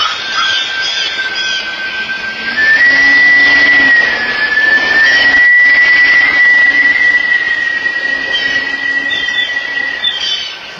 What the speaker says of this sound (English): it's a high-pitched whistling instead